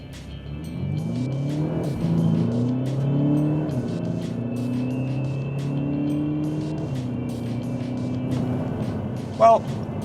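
A Volkswagen Arteon R-Line with a 240-horsepower TDI diesel accelerates hard in sport mode, engine note rising through several gear changes heard from inside the cabin, with a brief click near the end.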